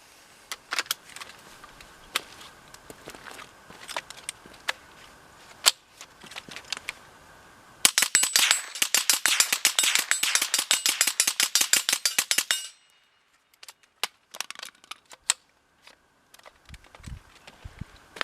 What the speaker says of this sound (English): let's go ahead and put another 25 rounds through her